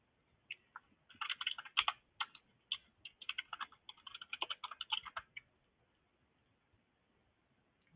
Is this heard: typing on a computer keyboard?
yes